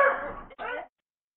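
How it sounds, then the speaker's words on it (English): A dog gives two short close barks in quick succession during a live online SCCA regional meeting, then silence. "my dog is barking."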